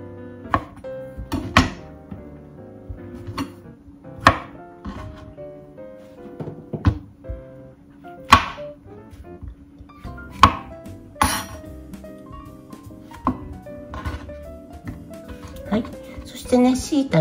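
Knife slicing shiitake mushrooms thinly on a cutting board, a series of sharp, irregular taps from the blade striking the board, with a voice talking between the cuts.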